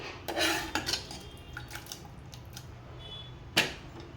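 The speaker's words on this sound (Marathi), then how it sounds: "तर इथे कुकरमधली भाजी आहे ती पातेल्यामध्ये काढून घेतलं आहे" Cooked vegetable curry of potatoes, drumsticks and peas is transferred from a pressure cooker into a pot, with a few sharp metal clanks and scrapes of a ladle against steel vessels.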